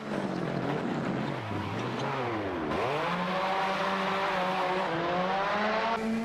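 A 2022 Ford Fiesta WRC rally car engine in Assetto Corsa, revving hard and continuously with rising and falling pitch through gear changes, loud and close with no talk.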